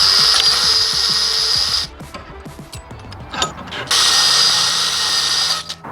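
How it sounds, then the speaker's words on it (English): A handheld drill spins a steel wire brush against a steel piece to texture it, a loud continuous grinding whir that stops midway for a couple of seconds, then resumes at full strength. "just take this brush and then hit all of the steel with it to texture it just right"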